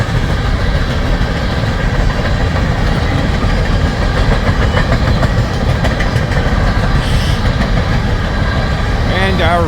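A freight train with a rear DPU locomotive rolls past at Pacific Junction, Iowa, giving a loud, steady rumble of rail cars and engine noise close by that holds throughout, with a brief squeal near the end.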